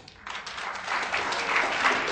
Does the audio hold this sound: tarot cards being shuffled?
no